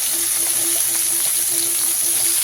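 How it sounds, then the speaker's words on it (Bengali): Cauliflower florets frying with a little salt in a kadai give a steady, even sizzle that runs close and unbroken throughout, with a faint constant tone in the background and no talking. "একটুখানি ফুলকপিগুলোকে একটু হালকা লবণ দিয়ে ফ্রাই করে নেব"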